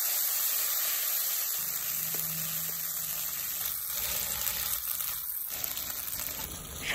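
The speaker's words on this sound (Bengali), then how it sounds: "মশলাটা দিয়ে বেশ কিছুক্ষণ কষিয়ে নেব।" Spice paste fries in a pan for Bengali potol and mung dal curry, giving a continuous broad sizzle and spattering hiss that stays fairly even.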